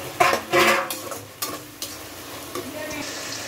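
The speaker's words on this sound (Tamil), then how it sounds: "2 தக்காளி எடுத்து நல்லா பொடிசாக வெட்டி வச்சுருக்கேன்," Finely chopped tomatoes dropped into a hot frying pan for mutton biryani, a loud burst of sizzling and spatula stirring at first, then scattered scrapes and knocks settling into a softer steady fry.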